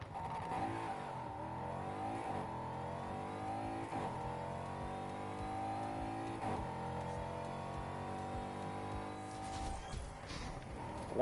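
Car engine in the video game Need for Speed Heat revving hard and climbing through repeated gear shifts, a loud continuous race-car roar with brief drops between pulls.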